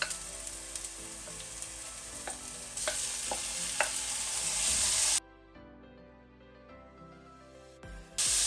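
Spring onion, sliced ginger and pork fry in a pan for congee with century eggs, a steady hiss and crackle with occasional utensil scrapes, then the sizzle drops sharply to a quieter simmer partway through.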